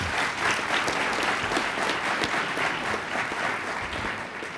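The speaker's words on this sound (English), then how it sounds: "Give Charlie Jett a round of applause" An audience gives a sustained round of applause for Sheriff Charlie Jett at a Special Olympics Virginia awards celebration, dense steady clapping with no speech, holding at an even level throughout.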